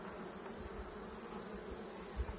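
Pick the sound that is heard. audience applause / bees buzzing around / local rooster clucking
bees buzzing around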